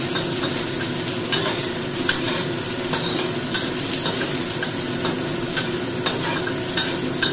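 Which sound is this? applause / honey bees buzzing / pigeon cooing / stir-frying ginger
stir-frying ginger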